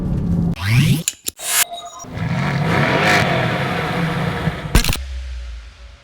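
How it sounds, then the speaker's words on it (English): A 2016 Mercedes-AMG GT S with a 4-liter twin-turbo V8 revs up loudly and close by in a few sharp bursts, with a brief gap before a final blip and a settling idle. "Anyone who thought a 4-liter V8 was gonna sound bad in the new line of AMGs, you're wrong."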